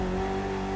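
A Mitsubishi Evo's engine drones in The Crew Motorfest video game, a brief steady car engine note with a strong tonal hum, held at an even level for under a second.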